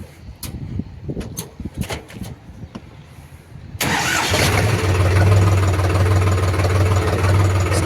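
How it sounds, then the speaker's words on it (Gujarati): A New Holland 4710 4x4 tractor with an FPT engine cranks briefly amid clicks and rustling, then catches and settles into a loud, steady low diesel idle. "સ્ટાર્ટિંગ એફપીટીનું એન્જિન છે ને હાઈ સ્પીડનો ગેરવાળો સ્લેબ છે, જેના લીધે સ્ટાર્ટિંગ એકદમ સ્મૂથ છે."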